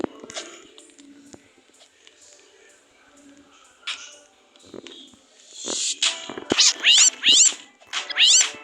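A cat meows several times, loud rising-falling cries bunched near the end after quieter scattered knocks and rustles, with no talking.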